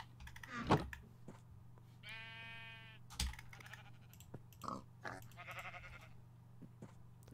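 Sheep on a farm bleat a few times at moderate distance, short wavering calls separated by pauses, over a steady low hum with scattered clicks and knocks.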